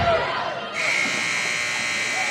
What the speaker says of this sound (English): It's the buzzer.